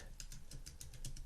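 Typing on a computer keyboard: a quick run of about eight soft, evenly spaced key clicks, close and faint.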